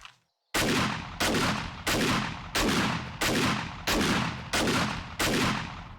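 Auto shotgun fire in the game 7 Days to Die: eight loud, heavy blasts at a steady rhythm after a brief silence, each with a short decaying tail, no talk.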